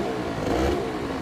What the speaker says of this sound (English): Need to rev it a bit sometimes.